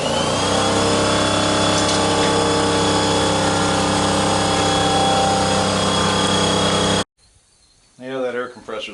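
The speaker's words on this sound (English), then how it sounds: "that air compressor's always got to kick in when I'm in the middle of a video." Air compressor running loud and steady with a droning hum in a workshop where a condenser unit is scrapped for copper and aluminum, cutting off abruptly before someone speaks.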